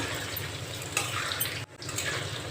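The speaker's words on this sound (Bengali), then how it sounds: "আলুটা এবার সুন্দর করে আমি ভেজে নেব।" Potatoes sizzle steadily in a pan with occasional scraping and clinking of a utensil, close and continuous, briefly interrupted midway.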